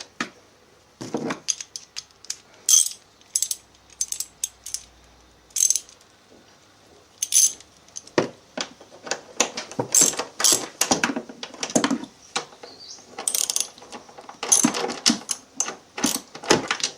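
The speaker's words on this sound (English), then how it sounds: "It's usually helpful to tighten it all the way down by hand before getting the wrench on it" A wrench ratchets while tightening a bolt during reassembly of a Vectrix electric scooter battery conversion, giving quick bursts of close metallic clicking with short pauses between strokes.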